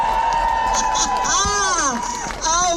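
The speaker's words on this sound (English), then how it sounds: "One more round of applause for that" Outdoor crowd at a cost-of-living protest on Downing Street, cheering and clapping in a dense, steady roar, with shouts and whistles rising over the noise and voices talking throughout.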